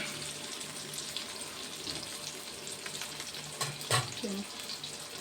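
Fish pieces sizzle in a pan of hot oil while fish curry is being made, a quiet, continuous crackle with a brief clatter and a soft scrape partway through.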